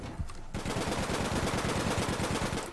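Sustained automatic gunfire from the video game APB Reloaded, a loud, rapid, evenly spaced burst of shots that starts abruptly and runs for over two seconds, close and dominant.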